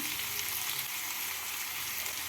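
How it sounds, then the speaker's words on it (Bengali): Broad beans (botboti) frying in a pan for an Indian botboti and potato dish, giving a steady, dense sizzle that stays even and close throughout with no voices. "বটবুটিগুলোকে দু মিনিট মতো ভেজে নিলাম"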